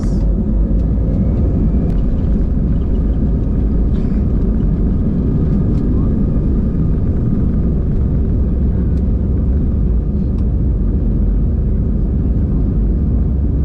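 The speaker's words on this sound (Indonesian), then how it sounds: "Oke, sekarang kita mau lepas landas." An AirAsia airliner takes off at night, heard from inside the cabin as a loud, constant low engine roar and rumble that holds steady throughout, with faint rattles over it.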